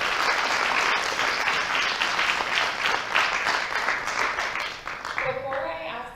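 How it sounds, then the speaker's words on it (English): An audience at a college book event gives sustained loud applause that fades near the end as a voice begins talking. "I just want to give one more time a huge round of applause for Harman today."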